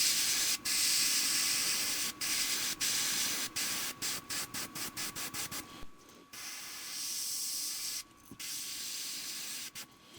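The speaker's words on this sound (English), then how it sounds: "while we still have the black loaded up in the airbrush" An airbrush hisses steadily as it sprays black paint onto a fishing lure, the spray broken by many short stops and restarts, with a few clear gaps near the end; close and fairly quiet, no talking.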